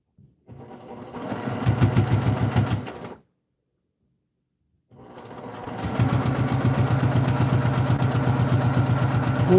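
Sewing machine stitching a seam on a project bag with a quarter-inch foot, a close rapid mechanical whir that runs, stops for a pause of silence, then resumes steadily.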